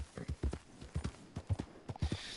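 A horse's hooves clip-clop in a steady, brisk rhythm in Red Dead Redemption 2, close and clear with a faint breathy undertone.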